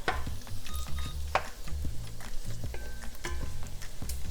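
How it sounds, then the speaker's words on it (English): Ginger, green onions, garlic and chili peppers tossed and sautéed in a wok for red braised pork belly, with rhythmic clattering stirs and sharp scrapes over a soft sizzle, close and busy. "we're going to add our aromatics, and we're just going to toss them in there and saute that"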